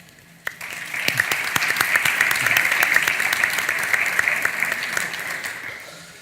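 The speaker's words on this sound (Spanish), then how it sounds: "Un aplauso para él" A conference crowd at a CEAPI energy and sustainable development congress breaks into applause for a speaker: a brief hush, a sharp onset, then sustained, full clapping that tapers off at the close.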